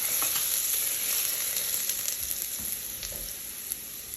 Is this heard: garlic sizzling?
yes